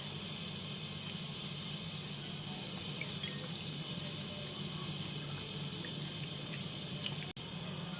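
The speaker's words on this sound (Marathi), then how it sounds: "आणि हा स्वच्छ धुवून घ्यायचा आहे दोन ते तीन पाण्यामध्ये" Steady running tap water streams into a sink while pomfret fish is rinsed clean for cooking, a continuous close hiss with no talking.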